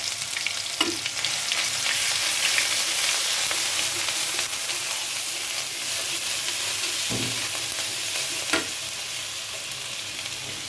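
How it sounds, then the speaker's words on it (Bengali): Ginger-garlic paste fries in hot mustard oil with five-spice, giving a steady, close sizzle and hiss with a few soft stirring knocks from a utensil against the pan. "পাঁচফোড়ন গরম হয়ে এখন আদা রসুন বাটা দিয়ে গেলায়।"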